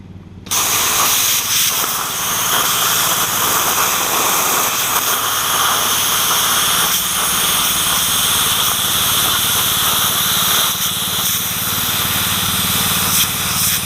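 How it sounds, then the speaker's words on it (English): A grinder cuts a metal piece for the choke heater plate of a 1966 Ford Galaxie 500 convertible, giving a loud, steady, hissing whine that runs without a break at close range. "I'll just dress it up on the grinder to fit it to the manifold perfectly, and I'll just move that around as I cut."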